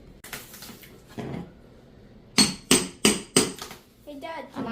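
Trim boards are pried off before new flooring goes down: a run of sharp knocks and cracks, four loud close hits in quick succession after scattered softer bumps, with some talking in the background.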